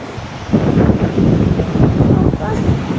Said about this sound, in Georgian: ო, ხედავ როგორ დაუბერა?